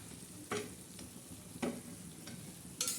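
Bitter gourd sizzles as it fries on a tawa, with three quick scraping stirs cutting through a quiet, steady crackle.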